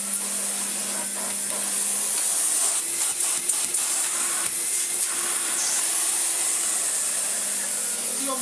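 An AEG Vampyr 7202 vacuum cleaner runs steadily, a loud continuous airy motor whoosh with a low hum, holding an even level throughout with faint rattles and no clear speech.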